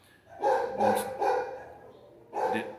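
A dog barks close by indoors, four loud sharp barks, three in quick succession and a fourth after a short pause.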